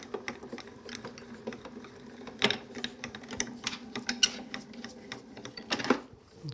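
A die-cutting machine in a card-crafting setting runs cutting plates through with a quiet, continuous mechanical whir and a series of irregular clicks and clacks, close up with no talking.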